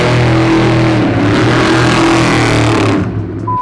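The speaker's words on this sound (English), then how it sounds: "I can't wait for you guys to hear this thing when he fires it up" A loud, throaty 900-horsepower all-wheel-drive trophy truck engine revs and holds at high rumble, close and powerful, then eases off near the end.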